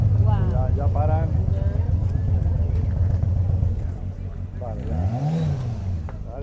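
Motorcycles ride along the Camino de Santiago near O Cebreiro, their engines droning and then revving as they pass fairly close, with a rising and falling sweep near the end. Excited voices talk over the engines.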